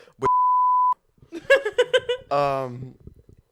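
A steady electronic censor bleep tone of under a second, followed by short bursts of talking and a laugh.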